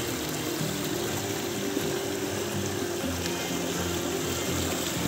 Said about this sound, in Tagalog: So ito po isang maliit na ilog dito.